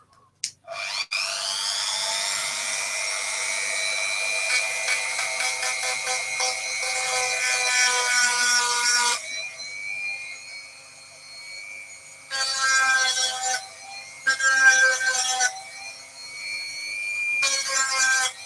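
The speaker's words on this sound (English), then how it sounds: "If you guys don't like the sound of the drill, you best close your ears" A power drill whines loudly and steadily into wood, pausing and restarting several times in high-pitched bursts, up close.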